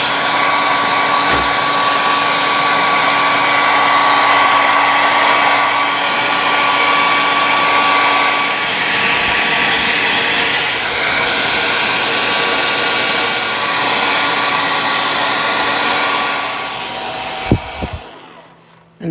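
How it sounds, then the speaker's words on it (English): A hair dryer blows steadily at close range on a wet gourd, a constant whooshing roar that holds for most of the clip before cutting off near the end. "And I just use a hair dryer."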